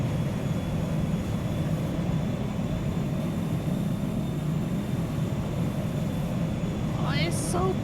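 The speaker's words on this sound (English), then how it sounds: "There's a plane. Hi, plane." An airplane flies overhead in the video game PowerWash Simulator, a loud, steady engine drone that fills the whole stretch, with a voice chiming in near the end.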